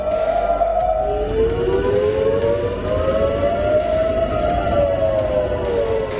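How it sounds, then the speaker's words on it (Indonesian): A wailing air raid siren in Haifa, Israel rises and falls steadily, with a second siren layered over it, amid constant outdoor rumble. "Sirine peringatan berbunyi di berbagai wilayah termasuk di kawasan pelabuhan utama di Haifa"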